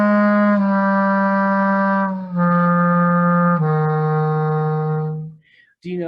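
Low clarinet notes held long and steady with slow finger changes, pitch gliding down into each new note across three sustained tones before a brief pause and a short final note; loud, close and solo.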